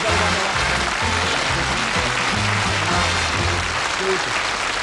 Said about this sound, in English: a nice warm round of applause for Jockey Wilson